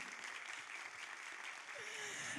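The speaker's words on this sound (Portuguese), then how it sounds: "Aplaudam, gente, é a Mãe Beth de Oxum." Audience applause at a panel on communication and ancestry at the FALA! festival in Recife. It forms a dense, steady wash of clapping from a room full of people, and a voice rises briefly near the end.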